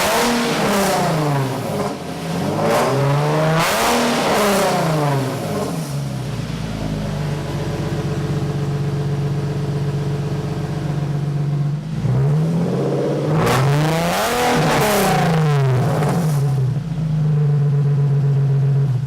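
A car fitted with new test pipes exhaust revs hard several times, the engine note climbing and falling in repeated sweeps around a long steady idle, loud and close, with no one speaking.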